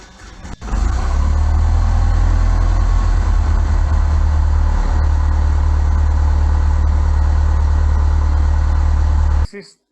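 A Cessna 172's piston aircraft engine cranks and catches after a short pause, then holds a loud, steady, throbbing idle close by for several seconds before cutting off abruptly near the end.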